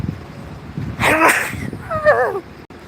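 A single close, loud human sneeze with a sharp burst followed by a voiced tail, then quiet.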